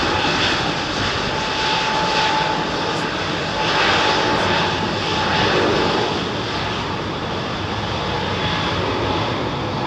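An Airbus jet passes low over London Heathrow, a loud sustained engine roar that swells and fades gently across roughly ten seconds, with no talking.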